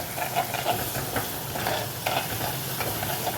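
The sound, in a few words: sautéing crushed ginger, garlic and shallots in a pan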